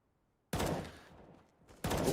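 Gunfire in a Counter-Strike esports match, forZe versus IN: two sharp, loud bursts of shots about a second apart, each tailing off quickly into near-silence.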